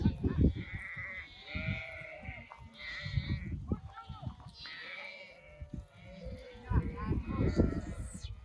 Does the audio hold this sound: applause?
no